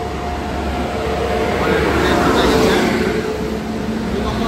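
Balurghat–Sealdah Express standing at a station platform, a steady loud broadband rumble of the train and platform noise filling the whole stretch with no clear pauses.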